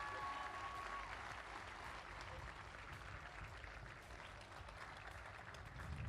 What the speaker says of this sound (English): So can we have a round of applause please for Josh and Simon, our athletics leads.